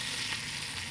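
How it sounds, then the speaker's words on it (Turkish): Breaded fish sizzles as it fries in a pan in a home kitchen, a brief, steady crackle heard close up with no voices. "paneli balıktan kızartıyoruz"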